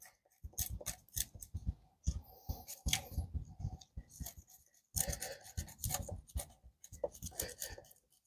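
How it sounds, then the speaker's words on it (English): Birch bark being scraped to rough up its surface into tinder powder, a series of short, close rasping strokes in quick bursts with brief pauses between them. "with the birch bark, you kind of have to prepare it a little bit just by scraping it up."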